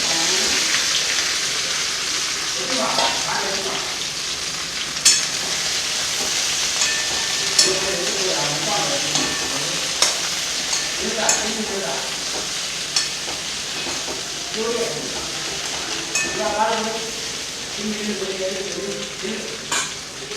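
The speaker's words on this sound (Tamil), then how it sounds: "இப்போது எண்ணெய் நல்லா சூடாயிடுச்சு. ஸோ இதில் நம்ம வெண்டைக்காவை போட்டுப்போம்." Okra sizzles steadily in hot oil in a pan for ladies finger masala, while a spoon scrapes and stirs now and then with small clicks and clatter throughout.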